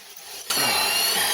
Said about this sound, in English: now I'm going to go about halfway in with this 10mm drill.